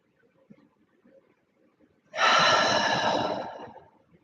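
During a belly-breathing exercise, one long, strong breath follows a quiet stretch with faint background sounds and lasts about two seconds before it fades, close and alone.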